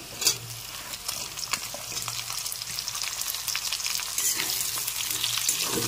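Potato, onion, radish and spring onion stalks stir-fry in a hot pan, giving a continuous sizzle that builds slightly over time, with scraping and clattering from the spatula.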